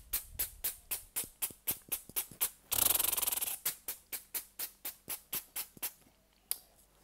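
A person imitates a garden sprinkler with the mouth, making a steady train of sharp, hissy ticks. Midway comes a longer spraying hiss before the ticking returns. The sound is close, dry and quiet.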